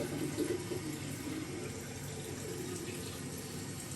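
Water drains from a household sink after the plug is pulled, a steady rushing gurgle at moderate level, continuous and without voices.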